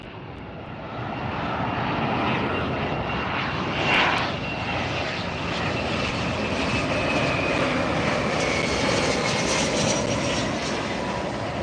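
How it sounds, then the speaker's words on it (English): A jet airliner roars loudly near the runway at LAX airport, a sustained broadband rumble and whine filling the whole stretch with a brief swell partway through. "Well, there's a pretty jet for you."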